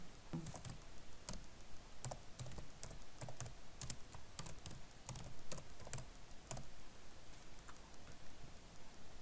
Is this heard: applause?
no